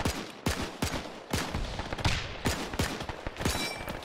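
Gunfire and explosions ring out during a firefight at an enemy bunker in the military game Arma, with sharp repeated blasts landing every half second or so, loud and close, with no voices over them.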